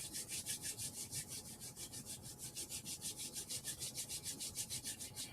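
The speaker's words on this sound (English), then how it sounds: "Rubbing your hands together." Hands rub briskly together in a tai chi and chi kung exercise class, a steady rhythmic swishing of about four strokes per second, close and continuous throughout with no talking.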